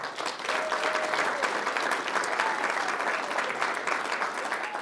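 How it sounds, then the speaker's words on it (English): An audience at an athletics awards ceremony applauds the coaches with sustained, even clapping that fills the room at a steady level from start to finish. "let's give a round of applause for coaches"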